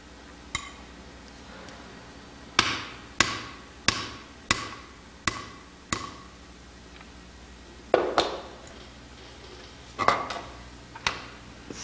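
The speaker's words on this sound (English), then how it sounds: "Then it is hammered out with the appropriate punch." A punch is struck with a hammer to correct a music engraving plate, giving a series of sharp, bright metallic taps, some single and some in quick pairs, spaced unevenly and heard close in a quiet room.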